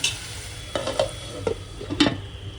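Chopped onions frying on low heat for kanda poha, a soft steady sizzle broken by a few sharp stirring scrapes of a spoon against the pan.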